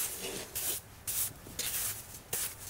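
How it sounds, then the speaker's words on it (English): Sand is swept into the joints of cobblestone patio pavers with a broom, heard as five or six close, raspy scraping strokes in a steady back-and-forth rhythm. "we're going to take a broom here. But yeah, just sweep that in."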